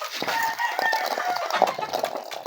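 Chickens clucking and chicks peeping nearby in a farm setting, a busy overlapping chorus of short high calls and chatter.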